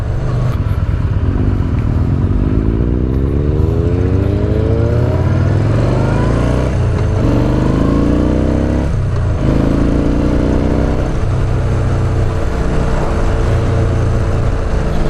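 Sport touring or super sport motorcycles riding on the road, engines droning steadily with rising and falling revs as the bikes accelerate and shift, loud and close throughout with no talking.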